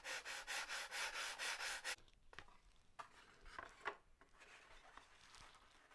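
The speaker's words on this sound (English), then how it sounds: "Now we'll take the old T-bar sander, and slowly but surely whittle away at it until it fits." A T-bar sander rubs back and forth on a foam wing for a Carl Goldberg Ultimate 10-300 biplane. About eight steady, rhythmic strokes sound close, then the rubbing turns into scattered, quieter scrapes with pauses and no talk.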